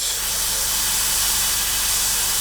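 An airbrush sprays paint onto a 1/48 scale HobbyBoss F-14D Super Tomcat model kit, giving a loud, close, steady hiss of air and atomized paint that holds without a break and with no voices.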